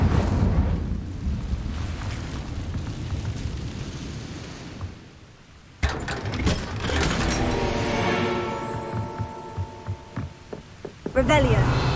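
The Incendio fire spell in the video game Hogwarts Legacy: a roaring, rumbling burst, then a sudden crackling blast that gives way to ringing, metallic magical tones and a few sharp hits near the end, with no talking.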